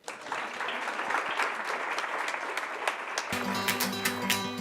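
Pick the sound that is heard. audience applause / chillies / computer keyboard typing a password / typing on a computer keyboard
audience applause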